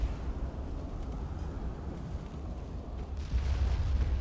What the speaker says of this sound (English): Yeah, I heard those torpedoes hit.